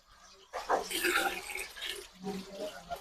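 Water poured onto raw rice in a cooking pot while making bhuna khichuri, a soft splashing pour of about two seconds that fades, with a voice speaking over it.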